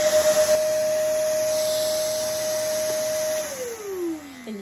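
Dog grooming vacuum from a shedding kit with clippers switches on and runs with a steady, close motor whine and airflow hiss. The pitch drops near the end as it winds down.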